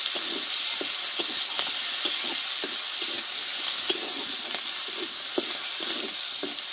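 Chopped tomatoes and green chilies fry in a pan with a steady, close sizzle and frequent soft stirring taps scattered throughout, with no one talking.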